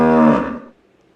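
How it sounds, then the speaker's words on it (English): An ox lets out one loud, deep, drawn-out moo that holds steady for about half a second, then fades into quiet, with no other sounds around it. "Ox says moo moo."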